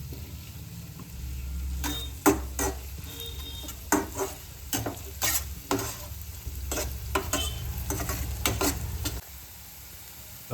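Onions sizzle and fry in a pan for spicy masala pasta while a utensil stirs and scrapes at them in a run of sharp, irregular clicks and knocks over the steady hiss.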